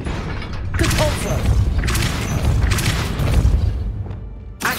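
Depulso spell cast in Hogwarts Legacy, a game: repeated booming thumps and mechanical rumbles with bright whooshing bursts, loud and close, spread through several seconds, ending with a final sharp hit.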